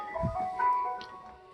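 A Whirlpool Cabrio washing machine's end-of-cycle chime plays a short electronic melody of a few tones, moderately loud, over a quiet room background with no talking.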